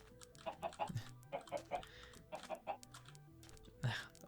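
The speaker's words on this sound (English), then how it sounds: "we're going to try and bring all of these chickens." Chickens in the Minecraft video game give repeated short clucks in quick clusters, with one lower squawk near the end, quiet and without talking.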